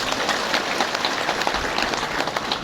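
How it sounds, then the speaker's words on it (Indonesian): Audience applause for the Al-Irsyad school at an Islamic talk in Cilacap, a dense steady wash of many hands clapping throughout, loud and sustained with no pauses. "Tepuk tangan untuk Al-Irsyad."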